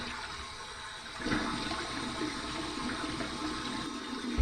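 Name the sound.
warm water rinse after shaving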